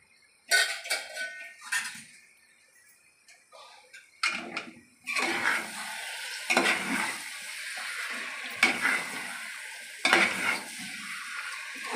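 Mutton pieces go into hot spiced oil in a pressure cooker for mutton curry: a few early clinks and scrapes of utensils, then loud, close, steady sizzling frying that swells in bursts as the meat is stirred, with no talk.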